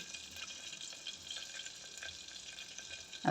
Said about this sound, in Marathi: तेल चांगलं गरम झालेले मोहरी घालायची मोहरी पण छान अशी फुलले